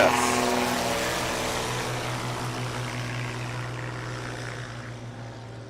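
A light propeller aircraft at a short-takeoff practice event at Music City Executive Airport drones with a steady engine hum, loudest at the start and slowly fading as it moves off.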